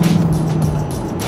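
A Ford F-150 Raptor pickup truck driving fast on a road, heard from inside as a brief, steady engine and road drone.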